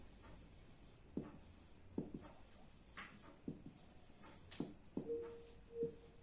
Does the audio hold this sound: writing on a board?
yes